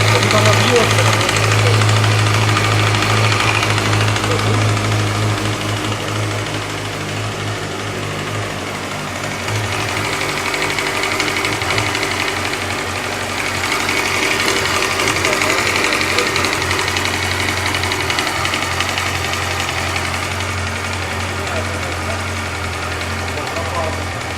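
A 2007 Yamaha R6 motorcycle engine idles with a knocking in the cylinder head after the bike fell on its right side. A steady, close mechanical drone and rapid rhythmic knock run throughout while people talk nearby.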